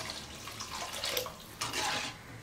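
Water splashes steadily into a cooking pot of fish curry (meen kulambu) on the stove, a continuous pouring rush that swells in two bursts, close and clear with no talking.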